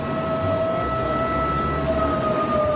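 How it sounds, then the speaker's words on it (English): An outdoor warning siren holds a steady, wavering tone in the background, heard as a distant continuous wail under a loud rumbling bed of outdoor noise. "Listen to the other siren in the background."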